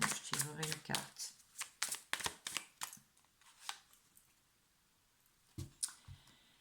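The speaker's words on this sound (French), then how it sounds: "Sinon, je tirerai une carte." Tarot cards are shuffled and drawn close up, a quick run of crisp riffling clicks followed by sparser, softer taps, with a faint voice briefly present early on.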